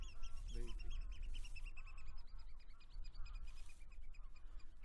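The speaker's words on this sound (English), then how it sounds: "I think they could be pink-footed geese, Lee." A flock of pink-footed geese flying overhead, heard as many overlapping honks and yelps with continuous outdoor rumble beneath them. The calls are fairly distant and faint.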